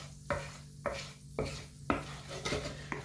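A whisk scrapes and stirs bacon fond in a pan with butter, five or six rhythmic metallic strokes at a steady pace, close and clear with a faint sizzle underneath.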